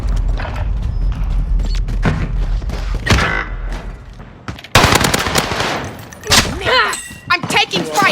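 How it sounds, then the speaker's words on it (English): Machine gun fire in the video game Warzone, rapid bursts of shots over dense battle noise with voices calling out, loud and close throughout with a sharper burst near the middle. "I'm taking fire."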